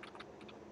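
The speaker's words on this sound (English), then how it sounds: "I'm just going to type a few." Typing on a computer keyboard while entering table data, a short run of light, quick key clicks at close range, ending with one sharper keystroke.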